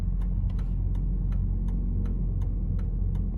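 Steady low engine rumble from idling cars, with a regular ticking click repeating about every third of a second, like an indicator.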